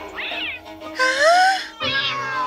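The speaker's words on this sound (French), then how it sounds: "Des chats persans." Several Persian cats meow in turn, three drawn-out, rising and falling calls, close and fairly loud with no talk over them.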